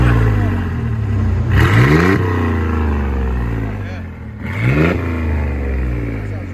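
A 1995 Chevy 1500 pickup with a 4.3L V6 and a Vibrant bottle resonator exhaust revs twice in sharp bursts over a rough, burbling idle, loud and close.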